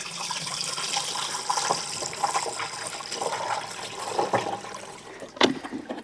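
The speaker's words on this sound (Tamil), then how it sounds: "இப்போ நம்ம இதுக்குள்ளே தண்ணி வந்து ஊற்ற போகிறோம்" Water poured from a pot into the tank of an old restored air cooler, a soft splashing trickle that comes in uneven bursts at close range.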